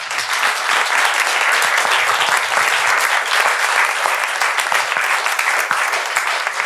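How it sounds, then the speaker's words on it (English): A crowd at a panel discussion on remembrance culture applauds steadily throughout, dense clapping that stays loud and even from start to finish. "And applause to all of you."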